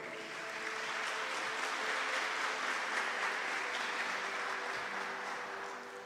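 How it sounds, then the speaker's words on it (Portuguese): An audience claps at a religious lecture on a Catholic treatise, the applause building quickly and holding as a steady, moderately distant wash before tapering slightly at the end. "Pode aplaudir também"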